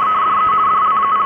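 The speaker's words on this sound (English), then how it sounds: "We now know it today as International Teleprinter Code." A radio signal in International Teleprinter Code, not Morse, heard as a steady, loud, narrow tone that flickers rapidly between close pitches for the whole stretch with no voice.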